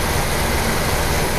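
A 1972 Buick GS Stage 1 V8 runs after being kicked down from high idle, a loud, steady low rumble close by with no break in the drone.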